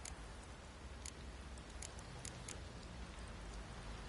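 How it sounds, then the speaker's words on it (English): Steady heavy downpour in The Witcher 3, a dense continuous hiss of rain with scattered spattering drops, faint and even throughout with no voices. "This downpour's a bastard"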